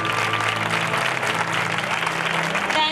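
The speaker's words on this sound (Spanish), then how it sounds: "Un aplauso para nuestra dama." Crowd applause at a coronation for the lady of the fair in Facinas, a dense, continuous roar of clapping hands over a low sustained musical hum, loud and steady throughout.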